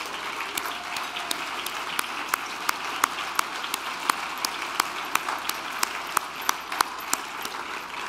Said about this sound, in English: Would you all stand while we applaud you?